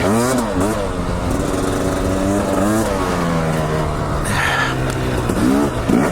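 Dirt bike on a trail pulling away with the clutch feathered, its engine note rising and falling in wavering pitch sweeps, loud and close throughout.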